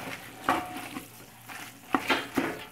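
Chili in a pot being stirred while it sizzles, a few scraping stirs and bursts of frying crackle standing out over a steady simmering hiss, close up.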